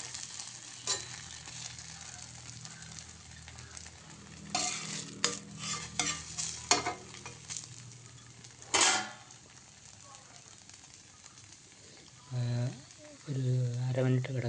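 A dosa made from dried rice cooks on a hot pan with a steady sizzle, broken by clusters of scraping and clinking from a spatula against the pan, while someone talks intermittently toward the end.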